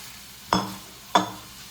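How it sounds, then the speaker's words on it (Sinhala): Pasta being stirred together with vegetables in a pan for a chicken pasta dish, two distinct scraping strokes over a low background sizzle. "දැන් මම මේකේ පාස්තා ටික එළවලුත් එක්ක කලවම් කරගන්න තමයි හදන්නේ."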